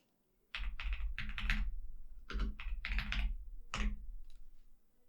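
A command is typed in a computer terminal, short quick bursts of keyboard clicks in three or four clusters with brief pauses between them, close and clear.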